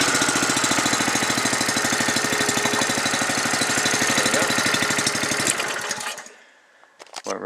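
A cold small engine with the choke on fires up and runs loud and rough for several seconds with a fast, even chugging rhythm, unable to rev, then cuts out abruptly and sputters briefly in the quiet.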